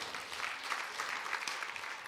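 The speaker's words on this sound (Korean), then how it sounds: "감사의 박수 올리겠습니다." A church audience at a special service claps in thanks and praise, a brief, even patter of many hands with no voices over it.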